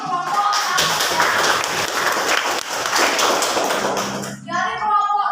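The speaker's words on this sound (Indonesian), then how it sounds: "tepuk tangan untuk kelompok 1 ya" Classroom applause for a student group during an Indonesian teaching practice lesson, a burst of clapping with scattered taps and shuffling, ending as a voice speaks over it.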